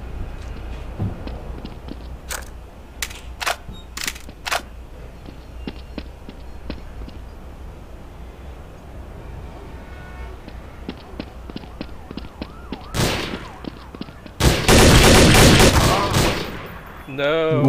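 Counter-Strike: Source gunfire: a few sharp single shots spaced early on, then a burst and a loud, sustained stretch of rapid automatic fire near the end, with faint footsteps between.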